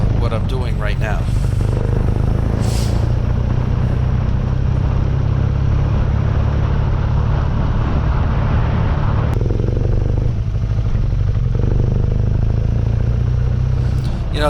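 A BMW R nineT Urban GS motorcycle rides through hay fields, its steady engine drone and wind rumble continuous throughout while a person talks over it.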